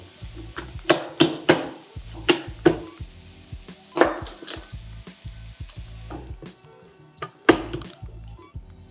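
Garlic cloves being prepared on a wooden board, with irregular knife taps and chops over a steady sizzle of lamb browning in a pot nearby, no voices.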